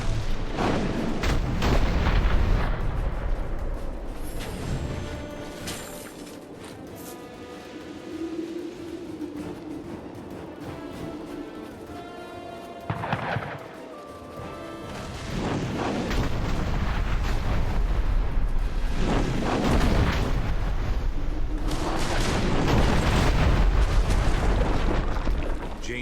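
Enemy Azanite gunners open fire in Dungeon Siege 3: heavy booming artillery blasts and rumbling explosions, loud and dense at the start, easing through the middle, then swelling into a sustained barrage again near the end.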